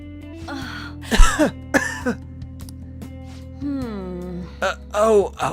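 A character in the video game Persona 5 gives several throaty coughs and throat clears in short bursts in a dusty room, over a constant low electronic hum.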